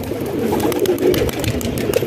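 Pigeons, including a Peshori pigeon, cooing nearby, soft low repeated coos overlapping with a few brief rustles and clicks in the background.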